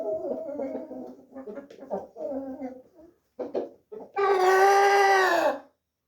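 A fighting rooster crows once, loud and close, with a long sustained call near the end, after people talk over a few soft clucks.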